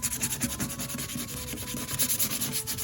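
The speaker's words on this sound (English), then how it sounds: "I'm going to take another piece of sandpaper and I'm just going to take down all the edges" Sandpaper rubs back and forth along the edges of a wooden Old Hickory hunting knife handle, a soft rhythmic scratching of quick close strokes with no talk.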